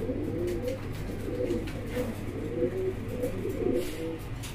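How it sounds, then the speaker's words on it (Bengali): Exhibition pigeons coo steadily in low, throaty, repeated phrases, close by and continuous, with no talking. "এখানে কিন্তু আরো এক জোড়া কবুতর দেখতে পাচ্ছেন, আর এটা হলো এক্সিবিশন কবুতর"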